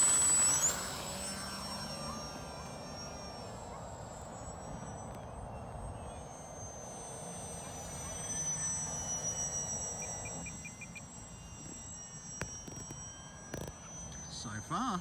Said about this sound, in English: We're going to fly the little mini Mustang by FMS.